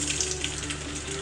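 Chicken pieces deep frying in oil for dragon chicken, a steady dense hiss and bubbling sizzle, close and continuous over a brief stretch.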